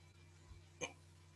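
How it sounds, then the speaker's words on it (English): A single short, sharp burst, like a sneeze, stands out against a quiet background with a steady low hum. "I had a sneeze"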